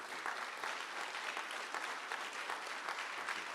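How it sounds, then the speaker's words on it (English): An audience at a conference evening session claps steadily, a soft, even wash of applause that holds at the same level throughout and sounds somewhat distant. "give him another round of applause"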